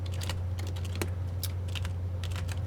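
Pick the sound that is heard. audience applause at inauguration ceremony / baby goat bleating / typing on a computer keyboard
typing on a computer keyboard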